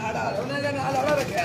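Soft, rolling coos of a pigeon, close by in one brief throaty phrase, over faint background chatter.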